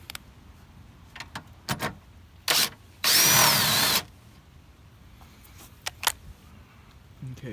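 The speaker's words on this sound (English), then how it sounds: "I'm going to drill a hole out" A power drill boring a hole in a piece of flat stock for a radiator bracket, one short whir followed by a longer steady drilling burst of about a second, amid scattered clicks and handling noises.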